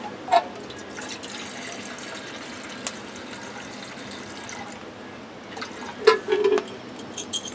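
Water poured into a pot for hot chocolate at a backyard fire pit, a steady, soft trickle with a few clinks and splashes near the end.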